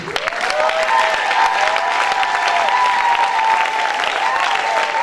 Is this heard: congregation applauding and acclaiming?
yes